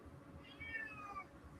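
A cat gives one drawn-out meow close by, rising and then falling, with a quiet room murmur behind it and no talk.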